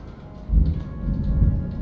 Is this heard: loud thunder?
yes